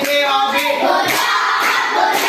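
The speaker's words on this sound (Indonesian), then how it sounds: "Beri tepuk tangan" A grade 5 class in an Indonesian primary school claps and cheers together in a loud, continuous burst of mixed hand claps and children's voices lasting a couple of seconds.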